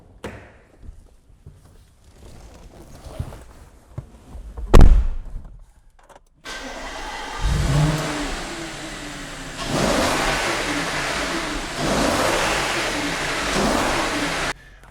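A 2013 Audi RS5 sits quietly after a few soft thuds, then its engine cranks and fires with a loud burst and settles into a strong, steady idle with rising revs. There is no talk.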